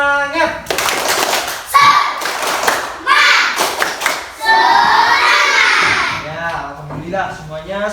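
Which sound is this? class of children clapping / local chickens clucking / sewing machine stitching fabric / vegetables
class of children clapping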